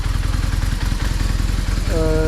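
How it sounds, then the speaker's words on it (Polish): A BMW R 1200GS motorcycle engine, running rough, idles close by with a loud, uneven chugging rhythm, and its pitch shifts near the end. "Nawet słychać po tym silniku, że on nie pracuje tak, jak powinien pracować"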